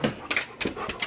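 A pet dog makes several short whimpers, pants and yips in a home setting, close and moderately loud in quick bursts over about a second, while owners give it obedience commands.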